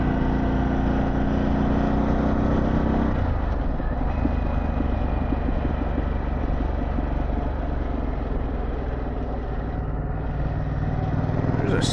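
A Harley-Davidson Pan America fitted with a Vance & Hines exhaust rides along a road near West Milford, its loud, steady engine drone close and continuous, mixed with wind rush, with a slight shift in tone partway through.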